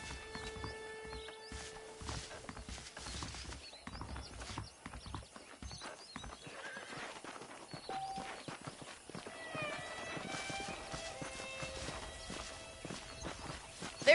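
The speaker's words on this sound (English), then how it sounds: "The horses are saddled up over here." Horse hooves clip-clop steadily at a walking pace in the video game Red Dead Redemption, with occasional whinnies and neighs, over a busy background of clinks and movement.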